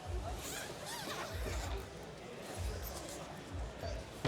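The zipper on a folding camp table's zippered storage compartment is pulled in several short, quiet rasping strokes, each a brief burst of close scratchy friction.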